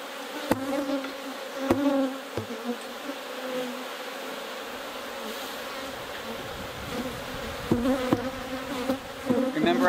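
Honeybees buzz steadily around an opened beehive while the hive is being split, a dense close insect drone with a few sharp knocks and clicks from handling the hive parts.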